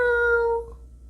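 An audiobook sound effect of a black cat gives a single clear, tonal meow, close and fairly loud, fading out after about half a second.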